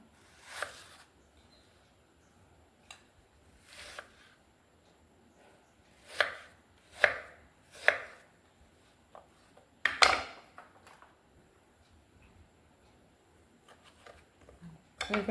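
Fruit, apple and banana, cut with a knife for a custard pudding, sounding as scattered close knife taps on a board, a few louder chops clustered midway and near the end, fairly quiet overall.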